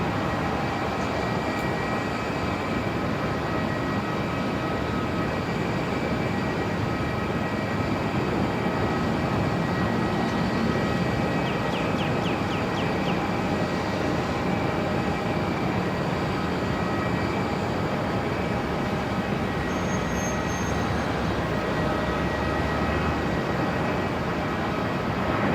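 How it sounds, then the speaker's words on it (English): Qantas Boeing 737-800 arriving at Melbourne Airport from Adelaide, a steady, broad jet rumble and whine holding at an even level for the whole stretch, with no talk. "Next arrival, Qantas 678 coming in from Adelaide"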